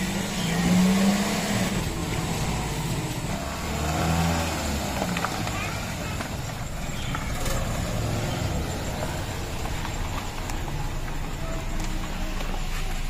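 Car engine running as the car is backed out of a garage at a home, a steady mid-low rumble with some revving, heard near, with people talking over it.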